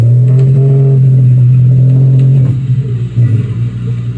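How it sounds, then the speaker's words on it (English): A North American right whale from the Atlantic coast gives a loud, low tonal moan that holds steady with harmonics and then wavers and breaks up, heard alone. "That's the sound of a North American right whale."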